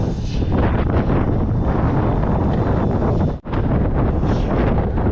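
Strong wind buffets the microphone in a loud, continuous roar, briefly dropping out for a moment before surging back.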